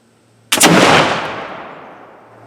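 A Harpers Ferry 1807 flintlock musket fires a single loud, close shot with a sharp crack and a long rumbling decay, alone with no talk.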